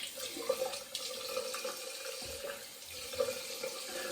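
Water runs from a tap while something is rinsed off, a soft, steady splashing stream heard at moderate distance.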